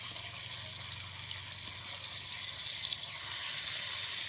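Chicken pieces sizzle steadily in hot masala in a pan, a soft, continuous frying hiss that grows slightly louder toward the end.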